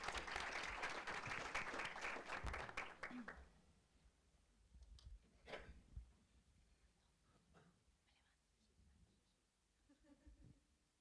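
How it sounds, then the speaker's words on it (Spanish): Applause from the audience at a panel discussion on video game localization, loud dense clapping for about three seconds that stops abruptly, followed by quieter room sounds and shuffling. "Un aplauso para la única persona que se ha atrevido por ahora"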